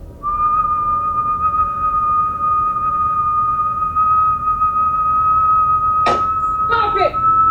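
A person whistles one long, steady sustained tone, clear and fairly loud over a low background hum, ending with a couple of brief knocks and a short wavering pitch slide near the end.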